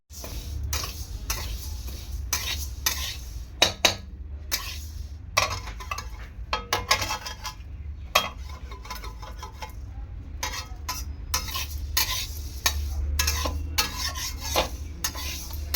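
Mung dal frying for khichuri in a pan while a spatula stirs and scrapes it, giving a steady run of close clinks and scrapes over a soft, continuous sizzle.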